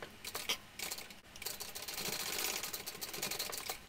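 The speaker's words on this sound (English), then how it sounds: "I'm going to sew that on at 1/4 of an inch seam allowance" A sewing machine stitches a quarter-inch seam on a small park backpack, a faint rapid mechanical patter that runs steadily after a brief pause, with no talking.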